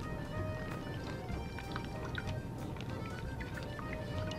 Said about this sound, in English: Let's see if we can stir that up a little bit.